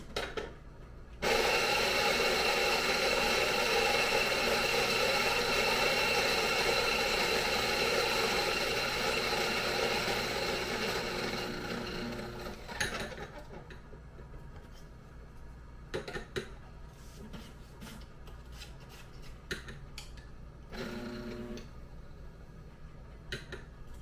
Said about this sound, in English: We got the coffee beans that need to be ground, and I've moved it to a 40 grind size